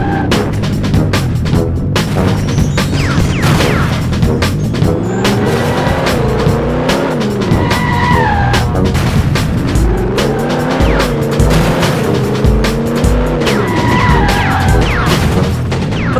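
A car racing in the 007 Racing video game on PlayStation, a continuous loud engine roar with repeated rising and falling tire squeals and skids, plus occasional impact noises from the game.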